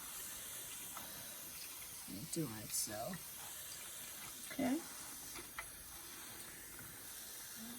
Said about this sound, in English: Laying some water in. Squirt there.